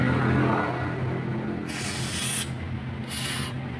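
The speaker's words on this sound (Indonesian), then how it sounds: "Diobati pakai karbu cleaner. Oke, lanjut lagi mas, semprot lagi mas." Carburetor cleaner is sprayed onto a motorcycle carburetor in two short, loud hissing bursts over a steady background of workshop noise.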